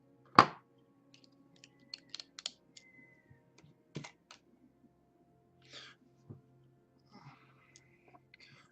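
Sharp, sparse little snips as fibre optic cable strands are cut one by one, quiet isolated clicks with one louder snap at the start and irregular gaps between cuts.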